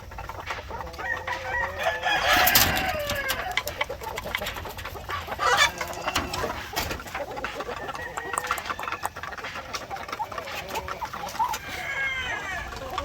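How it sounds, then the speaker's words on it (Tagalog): Upgraded native chickens on a farm cluck steadily at close range, with a rooster crowing loudly near the start and more calls scattered throughout the yard. "So meron tayong 5 upgraded native chicken dito."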